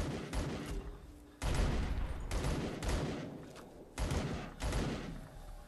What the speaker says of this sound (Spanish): Éntrale. El rifle de asalto.